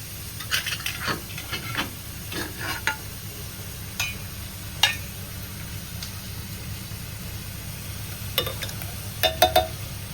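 Vegetables sizzle and hiss in a hot pan for a curd sabzi, a steady frying bed broken by scattered clinks and scrapes of stirring, with no talking.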